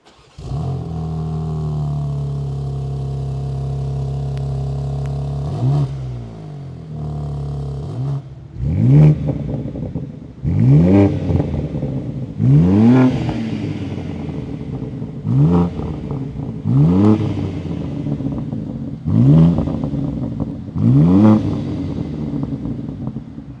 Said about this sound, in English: let's now listen to the MH3 650